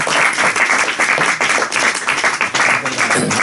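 Steady applause from an audience at a live talk in Zaragoza, dense overlapping clapping filling the whole stretch at a fairly loud, even level with no speech over it.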